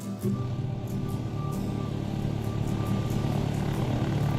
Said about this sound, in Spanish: Por ejemplo, este avión es de Asturias.